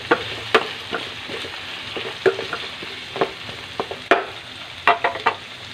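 Kalabasa squash chunks being stirred in a pan, giving a run of distinct scraping clacks at an irregular pace over a soft background sizzle, close and fairly loud, with no voices.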